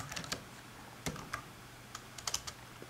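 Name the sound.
typing on a computer keyboard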